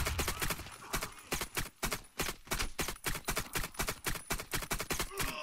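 Rapid bursts of Warface gunfire, including an AK-47 Gold, crackle in quick succession, loud and near, with brief pauses between volleys in a synthetic game-like rhythm.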